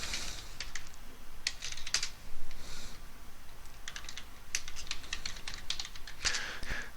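A command is typed on a computer keyboard while setting up SyncThing on FreeNAS. Close, crisp key clicks come in quick irregular bursts separated by short pauses.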